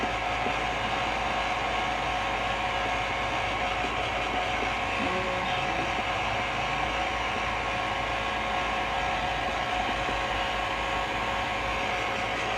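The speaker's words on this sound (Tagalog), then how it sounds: "Kasi takot pa siya sa tunog ng blower" Steady, loud whooshing airflow from a hair dryer fills the whole stretch, a constant broadband roar like a blower running close by without pause.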